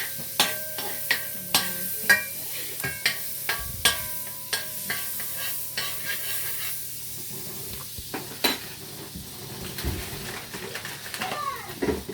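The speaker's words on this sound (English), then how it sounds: "So this is me making my sauce" Cheese sauce stirred in a pan on the stove, a utensil scraping and tapping in steady, fairly loud strokes over a faint sizzle, with no voices.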